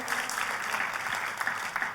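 A church congregation applauding during a Christmas service, a steady, lively roar of many hands clapping together, loud and unbroken throughout.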